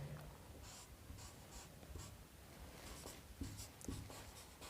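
Hand writing on a surface, likely chalk or pen during a maths lesson, gives faint, close scratchy strokes in short repeated bursts with quiet room noise between them.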